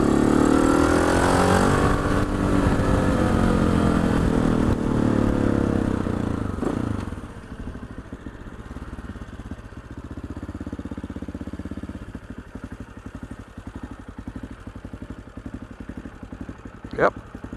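An AJP PR7 motorcycle engine, freshly ECU-remapped, runs loud and close at first, then drops to a low, steady idle with a rhythmic pulsing throb.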